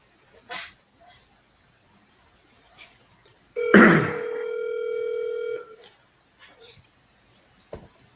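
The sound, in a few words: telephone dial tone, redialing a lead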